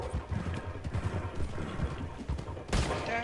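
Gunfire in Red Dead Redemption 2 Online, a burst of close, loud shots scattered over a noisy mix of game sounds, with a harsher blast near the end.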